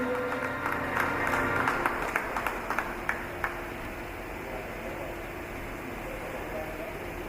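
Applause from an audience at a memorial celebration of a life, a burst of clapping that fades over several seconds into quiet room hum.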